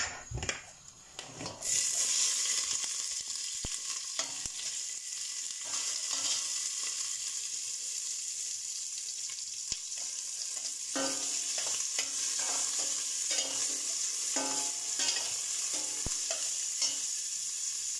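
Lime leaves sauté in a hot pan for a chicken stir-fry, with a steady bright sizzle throughout and scattered sharp clicks and scrapes from stirring.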